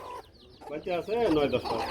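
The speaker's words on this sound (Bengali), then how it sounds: "এক জোড়া মুরগি দেখাই দেয় বন্ধুরা দেশি মুরগি" Native free-range chickens clucking close by, a few short rising and falling calls in quick succession.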